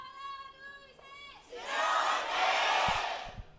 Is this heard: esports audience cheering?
yes